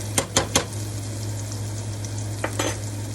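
A metal spoon stirs in a pan while cooking cube steaks and gravy: three quick scraping strokes open the moment, then two more follow over a steady low sizzle.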